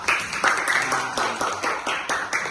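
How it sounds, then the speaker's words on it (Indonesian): Students in a classroom clapping their hands as a group after a presentation, a short burst of rhythmic claps at moderate level with a few louder accents. "Sekali lagi mari tepuk tangan untuk kita semua."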